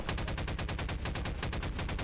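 Rapid gunfire from a weapon in Half-Life 2, loud and continuous with a steady, repeating rhythm of shots for the whole two seconds and no voices.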